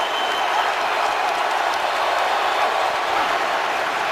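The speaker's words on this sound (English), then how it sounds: "Crowd noise certainly a factor" A dense, steady roar from the stadium crowd fills the air at an NFL game, the Buccaneers at the Falcons, loud and unbroken with no single voice standing out.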